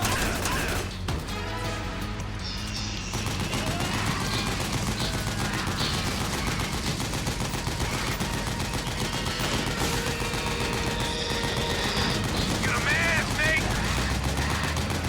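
Continuous heavy gunfire from Metal Gear Solid 4, dense rattling bursts and impacts running throughout amid loud game music and effects, with a voice talking over it.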